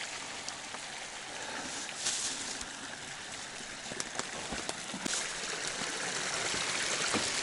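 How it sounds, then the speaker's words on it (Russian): Steady flowing water with a constant broadband wash, a taiga forest stream running nearby, with occasional small clicks and drips; no talking. "Вот какой ручей."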